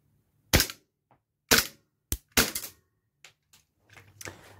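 Raven airsoft Glock gas pistol firing semi-auto, several sharp, close cracks spaced irregularly with brief pauses, the last shots fainter.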